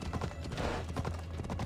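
Quick, rhythmic clip-clop of horse hooves at a steady gallop in the video game Assassin's Creed Odyssey, fairly close, with a faint voice in the background.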